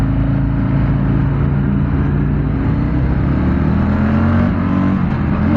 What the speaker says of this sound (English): I hit the rev limiter on by mistake